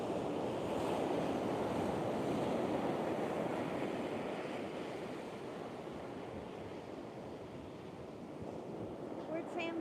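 Strong wind buffets the microphone on an Outer Banks beach, a steady roaring rush over crashing surf that stays loud and continuous throughout, easing slightly toward the end.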